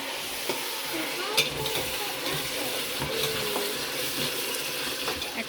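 Onions fry in a pan on a home stove over lowered heat, giving a steady sizzle with a few clicks of stirring throughout.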